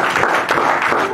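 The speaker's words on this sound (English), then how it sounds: "Give God a hand clap of praise." A church congregation gives a brief burst of hand clapping in praise, a dense, close patter of many hands lasting about a second.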